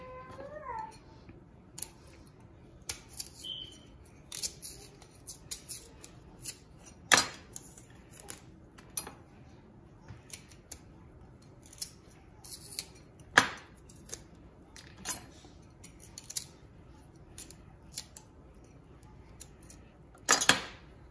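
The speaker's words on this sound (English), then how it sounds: "So this is how you first peel them" Brown outer skin and pink peel are stripped from tapioca roots with a knife, making scattered close scraping and cutting clicks at an irregular rhythm, with a few sharper louder snaps over a quiet kitchen background.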